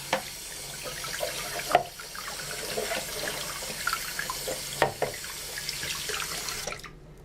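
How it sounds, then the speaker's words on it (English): Warm water runs from a tap into a sink as a plastic model kit part for the U.S.S. Enterprise is washed, a steady close splashing with small clinks and drips before the flow stops. "So let's wash this off. Use a little warm water."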